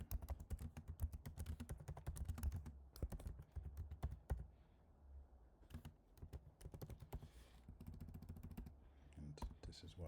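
Rapid keystrokes on a computer keyboard during a web page coding demo, a fast clattering run that pauses briefly, then resumes in steady bursts, close and fairly quiet with a low hum underneath.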